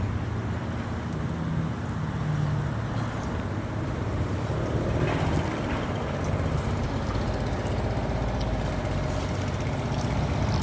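A steady low engine rumble of idling heavy vehicles, continuous and fairly loud, with wind noise over the microphone.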